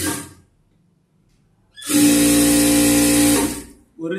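Sewing machine stitching a cross strip onto a blouse with lining pieces, a loud steady whirring run of about one and a half seconds that starts and stops abruptly, preceded by a quieter moment and brief sounds on either side.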